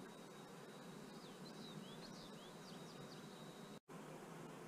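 Honeybees buzzing around a piece of comb pulled from a topbar hive on Vancouver Island, a faint steady drone with a few brief wingbeat whines passing close, continuous throughout with a momentary cut near the end.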